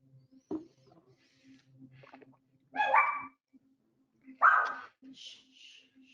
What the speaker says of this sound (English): Oh my gosh, these dogs.